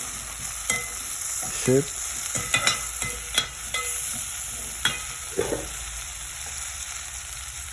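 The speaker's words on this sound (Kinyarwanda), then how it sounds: "Ahubwo twakaranze inyama, noneho tuzana ibitunguru tumena mu nyama." Meat and onions sizzle steadily in a pan, with occasional sharp clicks and scrapes of stirring over a constant hiss, close and moderately loud.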